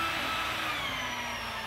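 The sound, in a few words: drill boring holes in steel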